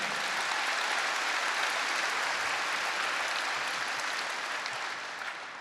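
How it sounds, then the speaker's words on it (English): A large audience at a seniors' cabaret gala applauds steadily, a dense wash of clapping that fades slightly at the end. "Give them a round of applause, ladies and gentlemen."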